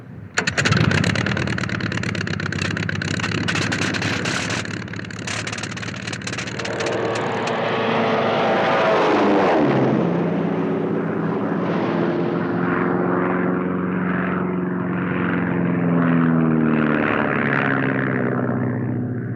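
A vintage propeller plane drones loudly, its engine roar swelling and shifting in pitch as it passes close by, then settling into a steady buzzing hum.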